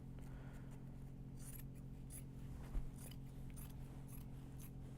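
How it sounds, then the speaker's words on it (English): Scissors snip steadily through Japanese fabric while Kato project bags are trimmed down, a run of short, crisp cuts over a constant low hum. "So we're just going to go in and trim everything down."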